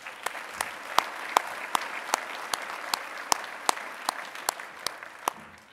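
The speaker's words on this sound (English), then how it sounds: "let's give him a round of applause anyway" Audience applause fills a conference hall during an opening plenary session, with about a dozen sharp, distinct claps standing out over a steady wash of clapping from the crowd.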